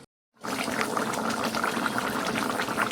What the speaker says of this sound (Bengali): তো মাছটা একটু টকবক করে ফুটুক ভালোভাবে।